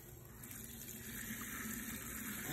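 Lukewarm tap water runs steadily over a hair extension ponytail being rinsed, a soft, continuous gush that stays faint and even throughout.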